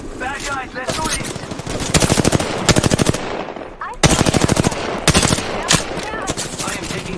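Gunfire in the Apex Legends video game, rapid bursts of automatic fire repeating close and loud in several volleys with short gaps between them.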